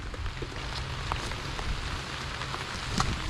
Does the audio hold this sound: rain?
yes